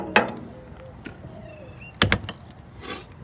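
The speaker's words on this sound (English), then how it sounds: "Gotta close my door." A door is shut outdoors on a sunny morning beside a parking garage, with a sharp double clunk of the latch partway through, following a few lighter mechanical clicks and rustles nearby.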